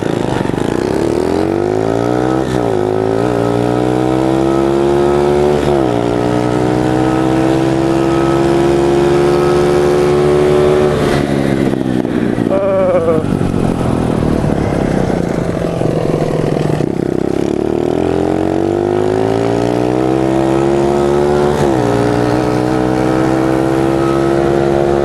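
Pit bike engines revving hard during a drag race, one throttle pulled by hand through a rigged ATV cable, giving a loud, close, continuous whine that climbs and drops through repeated gear changes, with no talking.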